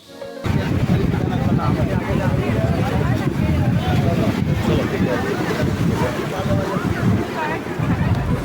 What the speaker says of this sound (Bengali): তো তোমাদেরকে একটু সমুদ্রের আওয়াজটা একটু শোনাই